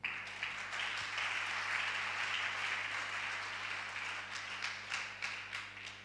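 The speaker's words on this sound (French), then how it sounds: "Clap for yourself." A church congregation claps together through a worship service, a broad steady wash of applause that holds loud throughout and thins into scattered claps near the end.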